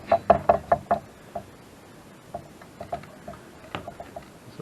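A heavy-duty sewing machine stitches a thick leather belt, giving a quick run of loud knocking thumps at the start, then sparser, softer irregular knocks as it continues.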